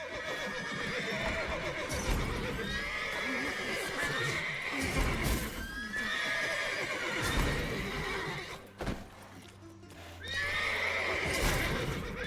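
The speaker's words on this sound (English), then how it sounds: "Calm all the horses before they wake the guards." Horses in The Witcher 3: Wild Hunt neigh and whinny repeatedly, loud and close, with a few hoof clops between the calls and a short pause before another whinny.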